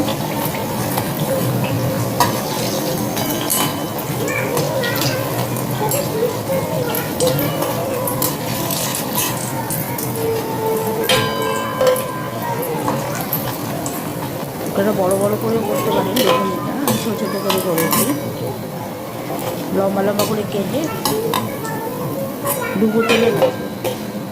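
Muri beguni fritters frying in oil, with a steady crackling sizzle and occasional clinks of a utensil against the pan, while a person talks over much of it.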